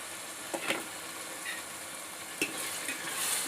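Ginger garlic paste fries with softened tomatoes in a pan for a drumstick chicken curry, giving a steady soft sizzle with a few brief stirring scrapes. No one speaks.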